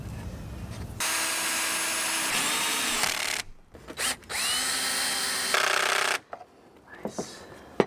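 A power drill drives screws into wooden slats for a slat bed in a box van build, loud sustained whirring runs that rise as the screws bite, separated by short pauses and a few soft handling knocks.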